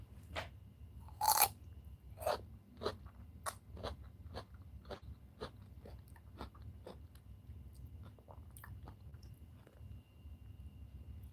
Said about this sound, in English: Listen to that crunch.